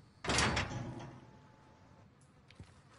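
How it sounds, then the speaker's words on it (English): Door opening in the Warzone video game, a single loud sliding scrape that fades out, followed by a few faint clicks. "I'll open the door and we'll just see if they spray."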